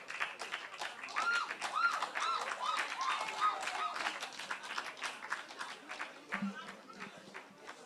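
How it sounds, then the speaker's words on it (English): Clapping from a poetry festival audience welcoming poets onto the stage, scattered and steady, mixed with voices talking over it before it thins out. "So please do well to give them a round of applause while they come on stage"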